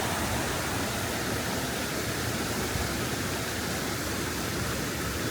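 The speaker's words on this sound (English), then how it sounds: "So this is the waterfall. This is all ice." Icy waterfall in Iceland at night, heard as a steady, even rush of falling water, moderately distant and faint, continuous with no voices over it.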